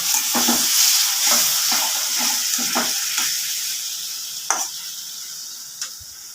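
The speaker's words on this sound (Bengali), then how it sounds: "অল্প অল্প জল দিয়ে আমি মশলাটা কষিয়ে নিচ্ছি" Spice paste sizzles in a pan with a little water while a spoon stirs it, scraping in short, repeated strokes over a steady frying hiss that slowly quiets, with a few sharp clinks near the end.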